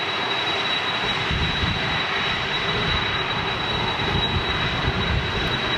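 Boeing 777-200ER jet with Rolls-Royce Trent engines at Manchester airport, a steady, fairly loud engine roar with a thin high whine running throughout, no talking.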